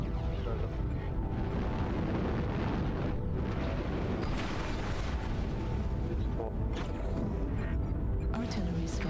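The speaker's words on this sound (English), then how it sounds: "Artillery strike." Artillery strike explosions from the MechWarrior Online video game, with a Highlander mech in play: a continuous dense rumble of blasts and booms fills the whole stretch at steady loudness, with game voice cues likely mixed in.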